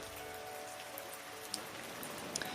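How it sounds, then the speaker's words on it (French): Heavy rain pouring onto the riverbank of the Slocan River, a constant dense patter with a few sharper drop ticks standing out, with no voices. "Il pleut fort sur les berges de la rivière"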